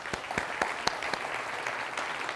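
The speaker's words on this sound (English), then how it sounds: "Let's give them a round of applause." An audience at a homeowners' association water event gives a round of applause, steady clapping with a few sharper individual claps, moderately distant and filling the room.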